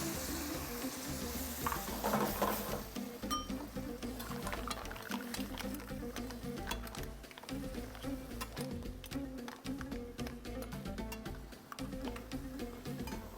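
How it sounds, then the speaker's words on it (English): White wine hitting a hot pan of mussels, a steady quiet sizzle and bubbling hiss that flares briefly near the start, then simmers on evenly with light clicking of shells. "The white wine, as soon as I put it in, it's gonna start to steam up and bubble up."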